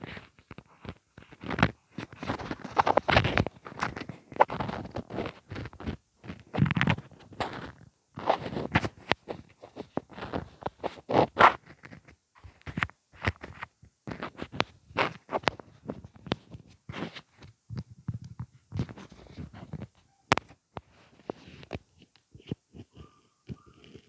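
Crisp, close tapping, clicking and crunching noises made with a mascara tube and brush, scattered irregularly over a long stretch with short pauses and no talking.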